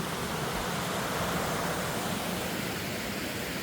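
Rainbow Stream Cascades on the Appalachian Trail, a series of small waterfalls producing a dense, constant roaring rush of water, loud and unbroken throughout with no voices.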